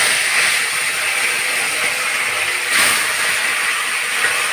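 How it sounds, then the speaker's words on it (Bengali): Large nilotica fish heads fry in hot mustard oil in a crowded pan, making a loud, dense, continuous sizzle and hiss up close with no talk. "আমি আগে যে মাছের মাথাগুলো ভেজে নিচ্ছি।"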